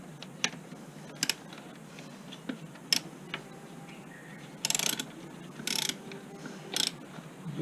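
Tight T27 Torx screws on a BMW B48 charge pipe being loosened with a ratchet: scattered close clicks and a few short ratcheting bursts over faint background hiss, with no voices.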